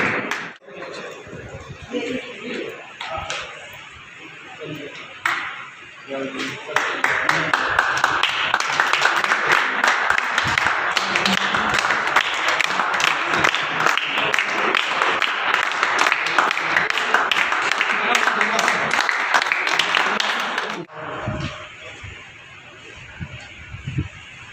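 An audience at an award ceremony claps loudly and steadily for about fourteen seconds, a dense, sustained roar of hands, with a person speaking over a microphone before and after.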